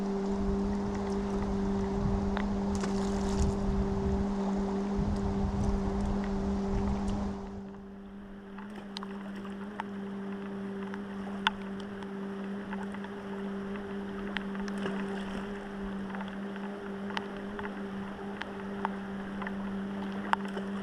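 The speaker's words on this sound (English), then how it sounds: "I hear a boat coming down the river." A boat motor drones at a distance on the Kenai River, Alaska, a steady low rumble that fades partway through, leaving quiet outdoor ambience with occasional small clicks.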